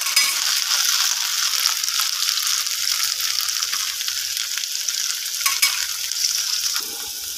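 Baby potatoes dry fry in an iron kadai with a steady, close hiss of sizzling that carries on evenly throughout, broken only by a few soft stirring scrapes.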